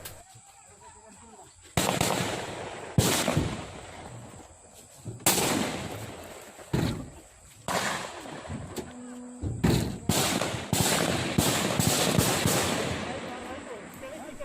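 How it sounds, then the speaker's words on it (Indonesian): Police fire repeated warning gunshots into the air during a clash with residents in Yahukimo, Papua; sharp loud bangs come in irregular bursts, some close together, with shouting voices and crowd noise between them. "Berkali-kali polisi mengeluarkan tembakan peringatan ke udara untuk menghalau serangan warga."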